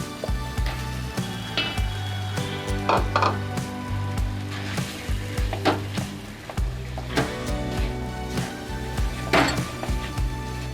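Mashed soybean paste with spices and boiled potato fries in a pan with a steady close sizzle, broken by repeated spatula scrapes and knocks against the pan.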